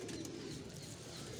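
Teddy pigeon with pink neck ring cooing softly, a brief low throaty coo heard faintly and close, alone without talk.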